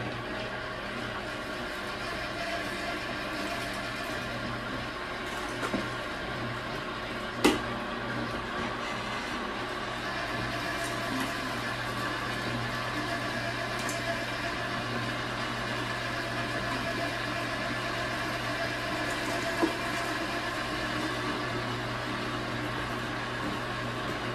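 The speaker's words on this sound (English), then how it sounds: "And what I'm going to do is start grinding the fat." Meat grinder running steadily on venison and fat, a continuous mechanical motor hum with a low droning tone and occasional small clicks, moderately loud and close, no voices.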